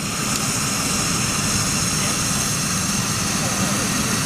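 A British Airways Boeing 747 jumbo jet in retro livery arrives at Heathrow with a steady, loud, broad roar of jet engines and no break in the sound.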